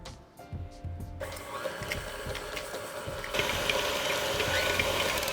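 A stand mixer creams butter and sugar for vegan chocolate chip cookie dough, whirring steadily with a rattling, ratchet-like mechanical texture that grows louder as the speed picks up partway through, with no talking.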